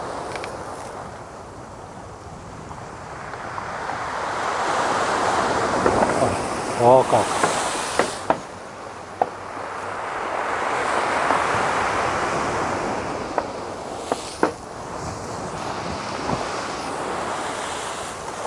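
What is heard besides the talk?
sea waves crashing during a storm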